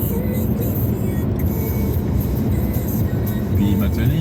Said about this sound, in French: Puis maintenant il accélère